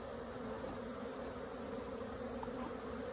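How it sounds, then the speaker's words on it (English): Honeybees swarm around a queen clip on a hive frame during a colony split, a continuous close droning buzz, steady and unbroken, with no voices. "You can see now that there's all kinds of bees on my little clip here"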